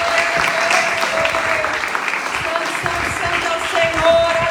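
A church congregation claps steadily together for the worship ministry, sustained applause filling the room with a voice or music faintly underneath.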